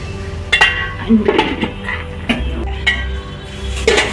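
Bottle gourd greens being stirred in a cooking pot, with scattered clinks and scrapes of a utensil against the metal at irregular intervals over a low background hum.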